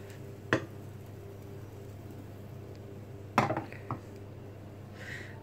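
A metal frying pan full of crêpe batter is handled on the stove, giving a few faint clanks and knocks spread across a quiet kitchen background.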